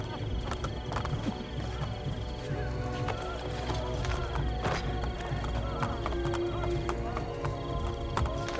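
A horse gallops in Assassin's Creed: Brotherhood, with steady clip-clop hoofbeats and a whinny running the whole time under a busy game soundscape.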